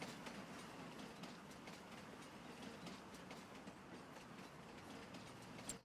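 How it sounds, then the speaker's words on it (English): A train in Farming Simulator 25 rumbles steadily with continuous rolling clatter and faint clickety-clack of wheels, a constant moderate wash of rail noise with no voices. "Sounds a bit like a train."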